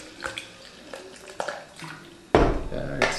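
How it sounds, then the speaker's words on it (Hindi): Water splashes into a protein shaker holding a heaped scoop of Bigmuscles Zero powder, with a loud burst of pouring near the end after quieter clinks and handling, while a person talks in the background. "थोड़ा पानी पा लीजिए"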